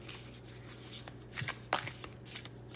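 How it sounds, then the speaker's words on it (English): Thick, high-quality oracle cards being shuffled by hand, a steady run of soft riffling and sliding card noises with a few sharper flicks, close and alone with no talking. "So I'm going to shuffle just these oracle decks a bit."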